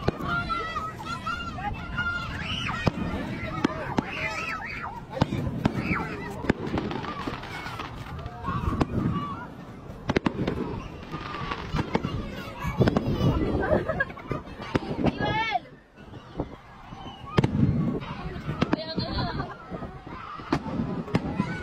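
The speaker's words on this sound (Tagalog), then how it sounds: "At ito na nga ang fireworks." Fireworks display at Enchanted Kingdom theme park, with repeated bursts and crackles spread across the scene amid a noisy crowd, people chattering and calling out throughout.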